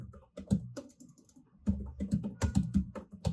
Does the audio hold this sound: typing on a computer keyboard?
yes